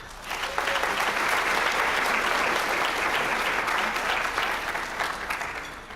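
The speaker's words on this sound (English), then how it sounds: "Please give all these students a round of applause." Audience at a high school graduation celebration giving graduating students a sustained, full round of applause, dense and even throughout with faint crowd murmur.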